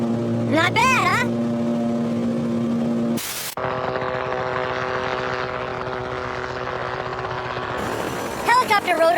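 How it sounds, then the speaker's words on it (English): Helicopter rotors spinning in flight: a steady droning engine with a layered harmonic whine, a brief sharp break partway through, and whooshing sweeps at the start and end. "Helicopter rotors work just like airplane wings."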